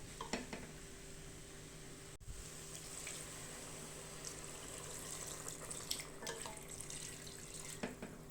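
Water is poured into a pressure cooker holding mutton curry with butter beans and potato. The trickle is faint and close, with light metallic pot clinks, and there is no talk.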